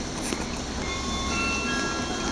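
A red train rumbling steadily past at close range at Clapham Junction station, with a constant mechanical roar and faint squealing tones from the wheels.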